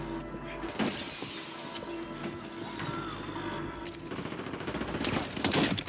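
Armor shatters in Warzone with a sharp glassy break amid rapid gunfire, followed by continuing shots and rattling in a busy, moderately loud game mix with a voice talking.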